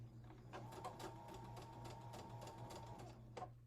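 A sewing machine stitches a side seam on a denim and lace shirt upcycle in a steady rapid whirring run with a constant motor hum, close and quiet, with no talking.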